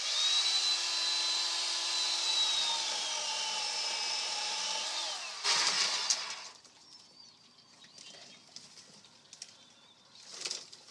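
Chainsaw trimming a pear tree branch: a loud, whining engine drone that dips in pitch mid-cut and stops abruptly, followed by softer rustling and snapping of the branch.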